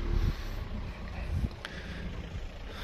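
Steady wind blows across the microphone on Mallorca, Spain, a continuous rushing buffet with a few gusty thumps, fairly close and loud.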